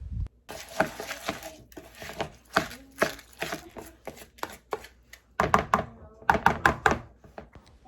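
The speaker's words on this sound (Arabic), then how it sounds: "نقطعه شرايح سميكة ونحطه في قاع القدر" Potatoes sliced into thick rounds on a cutting board for a pot, a steady series of close, sharp knife chops and thunks with short pauses between bursts, no talking.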